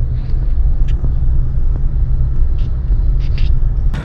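Steady low rumble inside a car driving in Saudi Arabia at 6:30 in the evening, continuous and fairly loud with faint brief ticks on top and no talk.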